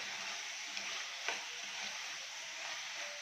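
Large onion frying with browned chicken pieces in a pan gives a soft, steady sizzle, with a few faint spoon ticks as it is stirred, quiet and close.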